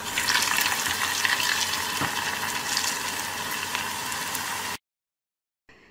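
Potato slices frying in hot oil in a home kitchen, a loud, steady crackling sizzle that runs for several seconds before cutting off abruptly, then a faint return at the end.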